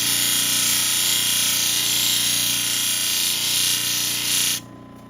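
A Lake Superior agate is ground on a power tool, giving a steady, loud, even whirring grind with a high steady tone that cuts off abruptly near the end.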